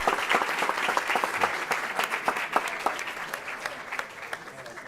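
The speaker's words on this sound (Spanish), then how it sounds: "un aplauso, por favor, para quienes lideran." An auditorium audience at a university talk with athletes gives steady, moderately loud applause, dense overlapping claps continuing without a break.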